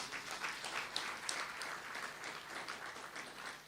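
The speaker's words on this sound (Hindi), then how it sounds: "तालियां तो बजाओ भाई।" An audience applauds at a spiritual talk, a steady, dense patter of clapping that holds at an even level for several seconds with no voices over it.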